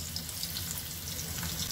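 Onion frying in a hot kadhai as chicken gravy is started, a steady close crackling sizzle with fine hissing spatter, continuous and even throughout with no voices.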